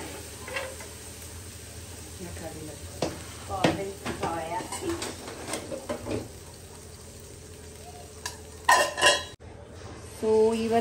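Metal utensils clink and scrape against pots and dishes in a home kitchen while mung bean, brown rice and urad dal batter is readied for dosa, with scattered knocks and a sharper clatter near the end; a voice speaks faintly at times.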